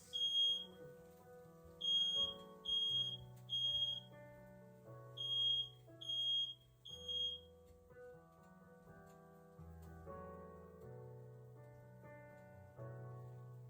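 A smoke alarm sounds repeated bursts of high, shrill beeps, starting and stopping at irregular intervals over faint low background noise.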